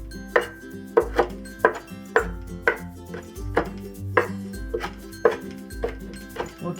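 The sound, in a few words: knife slicing mint leaves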